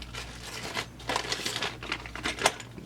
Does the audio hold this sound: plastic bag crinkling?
yes